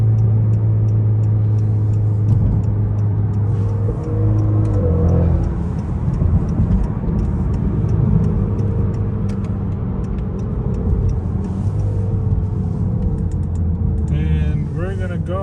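A Honda Accord 2.0T with a Borla cat-back exhaust, Type S, droning steadily from inside the car while driving, its engine note rising and falling with revs, deep and continuous, with a faint ticking at times.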